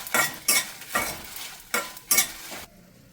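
A spoon stirs coriander seeds, cumin and 10-15 dried red chillies as they dry roast in a pan. Five distinct scraping, rustling strokes sound in an uneven rhythm, and the clip ends in near silence.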